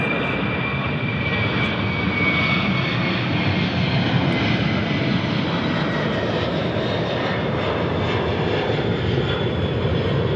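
Jet airplanes departing Memphis International Airport, a FedEx hub, produce a loud, continuous, broadband engine roar that holds steady for the whole stretch with no talking.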